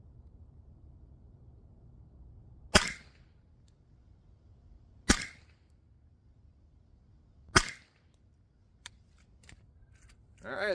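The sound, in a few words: rifle shots fired at a target while zeroing a CVLIFE scope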